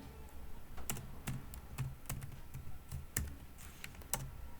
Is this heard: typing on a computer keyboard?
yes